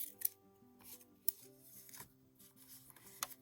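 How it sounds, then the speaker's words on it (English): Scissors trim excess fabric while a mini needle book is being made, giving a few quiet, close snips and soft rubbing of cloth, with faint tonal hum underneath. "We can trim this excess fabric."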